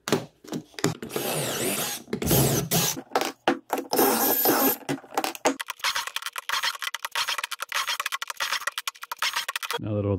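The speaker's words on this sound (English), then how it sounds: "I'm going to drill pocket holes here and here and then here and here on each of these boards" Bursts of a power drill whirring into wood boards while drilling pocket holes, starting and stopping repeatedly, with short pauses between holes and some clatter of handling.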